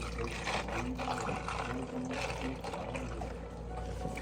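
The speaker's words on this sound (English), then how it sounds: "We're going to add some water to help separate the colors." Water poured into a glass of Herbalife mango tea to separate the colors, a steady continuous pour and trickle over a faint background hum, with no talking.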